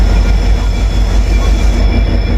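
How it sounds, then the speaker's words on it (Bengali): A passing Darjeeling Mail train's locomotive gives a loud, steady low rumble with rail and wagon noise throughout, close by and without speech. "দেখুন এই ইঞ্জিন যাচ্ছে"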